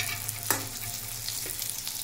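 Bitter gourd fries in a pan with a steady close sizzle, a couple of brief scraping stirs cutting through the constant crackle, no voices.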